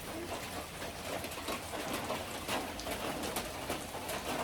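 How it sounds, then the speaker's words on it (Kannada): Rain falling outdoors during the monsoon season, a soft, steady hiss with scattered drop patter. It is faint and continuous and heard alone, with no talk. "ಮಳೆ ಇದೆ"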